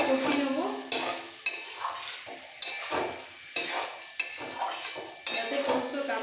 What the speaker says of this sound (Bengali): ভেজে রাখা ডাঁটা আর আলুগুলো দিয়ে দিচ্ছি, দিয়ে একসাথে আবার একটু মিক্স করে কষিয়ে নেব